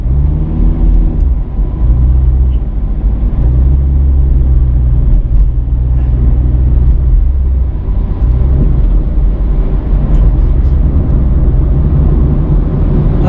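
Loud, steady low rumble of road traffic heard from inside a car on Industrial Drive in Australia, the engine drone and tire noise continuous with no talk.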